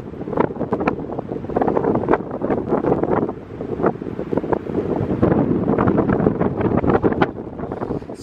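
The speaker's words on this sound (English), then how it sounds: "It's a little windy, so I'm behind this rock." Strong wind buffets the microphone in gusty, rumbling bursts, with a rough low roar rising and falling throughout.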